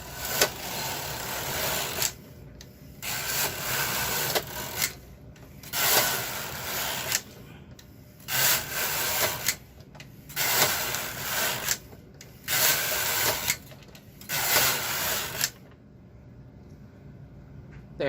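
Silver Reed SK560 knitting machine with ribber knitting full needle rib: the carriage sweeps back and forth in six steady, loud rasping passes of about two seconds each, separated by short pauses, then falls quiet.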